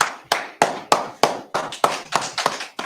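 Sharp, separate hand claps in a church setting before a Sabbath service, about nine distinct claps in a loose, steady rhythm, close and loud with no talk.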